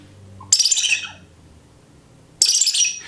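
A person imitates a gray squirrel's call, giving two loud, harsh squawking bursts separated by a quiet gap, each sharp at onset and fading raggedly.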